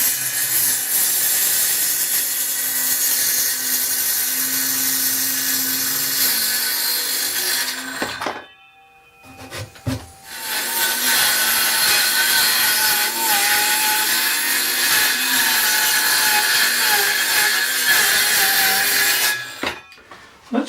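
A Parkside cordless circular saw from Lidl cuts 22mm MDF with a loud, steady, close whine that stops briefly and then resumes for a second long cut, with no talking.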